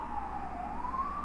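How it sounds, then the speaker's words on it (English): An emergency siren wails faintly in the background, its tone slowly rising and falling over about a second with nothing else prominent. "sorry about the siren in the background."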